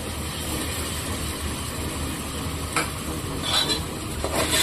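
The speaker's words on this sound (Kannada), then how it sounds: "ಹಸಿಮೆಣಸಿನ್ಕಾಯಿ, ಕೊತ್ತಂಬರಿ, ಪುದೀನ ಪೇಸ್ಟ್ ಮಾಡಿ ಇಟ್ಕೊಂಡಿದ್ದೀನಿ. ಇದು ಹಾಕ್ತಾ ಇದ್ದೀನಿ." Green chili, coriander and mint paste going into a hot frying pan of rice and peas, a steady sizzle with scraping stirs and a few clinks of the spoon against the pan.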